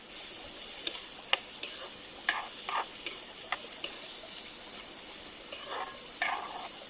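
Onion with bell pepper frying in hot oil in a pan for pav bhaji: a low, continuous sizzle broken by regular sharp ticks and scrapes of a spatula stirring, close and fairly quiet.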